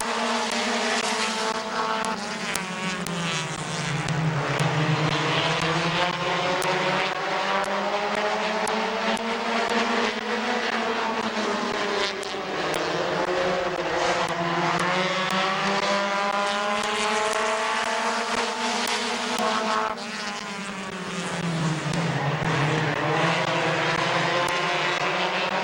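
Stock cars racing at Midvale Speedway, a loud continuous roar of several engines rising and falling in pitch as the pack sweeps past and around the track, with no talk.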